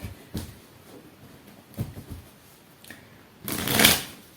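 Quick riffling bursts of cards being shuffled, a few short shuffles followed by a longer, louder riffle near the end, close to the microphone.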